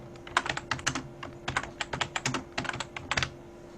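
Rapid, uneven bursts of keystrokes on a computer keyboard as a name is typed, close and crisp with short pauses between clusters of clicks, no voices.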